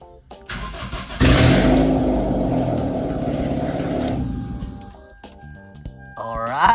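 A Toyota Corolla AE111 engine with no headers fitted starts up and runs with a loud, raw, open roar, then settles and fades as the revs drop.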